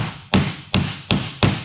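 Bolt heads on an F150 bed slide being tapped down into their holes, four sharp metallic knocks at an even, unhurried pace, close and clear with short decays and nobody talking.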